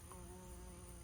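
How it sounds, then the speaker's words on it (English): Honeybees buzz steadily among squash flowers in a garden, a faint, close, continuous hum. "But look at my bees in there pollinating."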